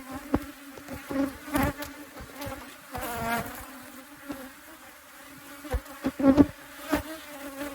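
Honey bees swarm around a busy, crowded hive in South Africa after the canola bloom, a steady close buzz with louder individual bees sweeping past the microphone.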